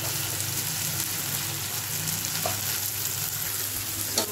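Spices frying in a pan for gahat dal give off a dense, even sizzle throughout, with a couple of faint stirring clinks near the end and no talking.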